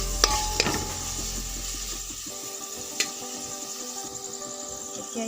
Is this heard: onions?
yes